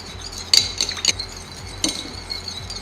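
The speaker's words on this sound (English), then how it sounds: "We'll stir till completely combined." A spoon clinks against a glass while a homemade hair remedy is stirred, giving a few light, sharp taps in quick groups close up over a quiet background.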